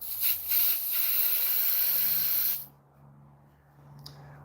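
Spray paint applied to a fishing lure, a close steady hissing spray lasting a couple of seconds and then cutting off, leaving faint room tone and a brief small click near the end.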